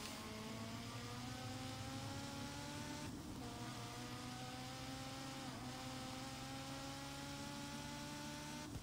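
A LEGO Speed Champions car races around a track in Forza Horizon 4, its engine a steady, quiet drone with smooth pitch shifts as it shifts and accelerates, with no talking.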